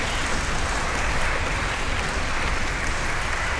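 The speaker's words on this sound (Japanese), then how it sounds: "どうぞ拍手でお迎えください。" A concert audience at a chamber orchestra special live claps to welcome the concert navigator, a steady, dense wash of applause filling the hall throughout.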